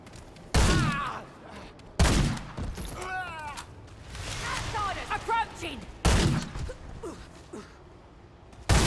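A ranged weapon fires in Remnant II, four loud, booming shots a second or two apart, close by, with creature shrieks and a voice talking between them.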